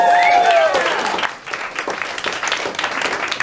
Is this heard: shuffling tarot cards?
no